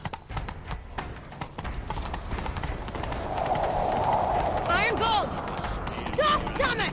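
Horse hooves clip-clop at a gallop in The Witcher 3 as riders give chase, a steady rhythmic pounding that builds and carries through, with a brief whinny-like sound and game effects layered in toward the end.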